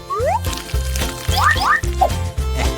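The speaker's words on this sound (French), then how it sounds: "Maintenant, on peut verser tout sur les moules." Hot caramel mixture is poured into lollipop molds, with repeated liquid glugging and pouring sounds and gurgling splashes in short bursts, up close and moderately loud.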